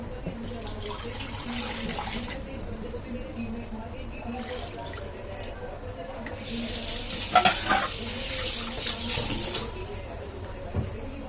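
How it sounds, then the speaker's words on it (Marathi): Water is poured into frying masala for a paneer mushroom curry, setting off a loud bubbling sizzle and steady stirring in the pan, up close, with a brief louder burst partway through. "मसाला फ्राय करून झाला, त्याच्यामध्ये मी हे पाणी ॲड करते मसाल्याचंच आहे"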